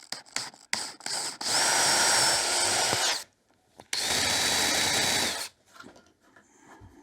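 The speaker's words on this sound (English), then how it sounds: "what I normally do is actually drill this hole now" A power drill boring a hole in a ferro rod handle: two sustained whirring runs of a couple of seconds each, with clicks and handling noises between and after.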